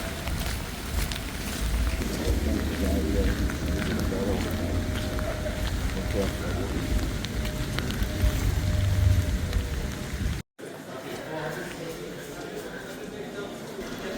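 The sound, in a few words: rain falling outside while walking along river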